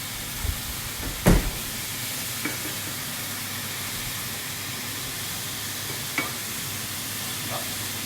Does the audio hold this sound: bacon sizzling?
yes